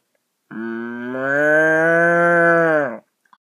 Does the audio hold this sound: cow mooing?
yes